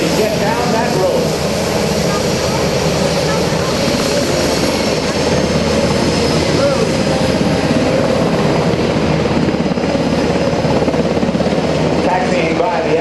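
A UH-60 Black Hawk helicopter hovering during a rope descent at a joint services open house, its loud steady rotor and engine roar continuous and close throughout, with a commentator talking over it.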